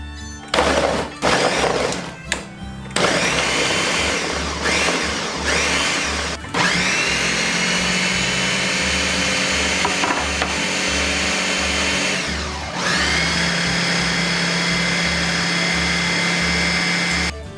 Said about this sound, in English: And we're just going to blend that.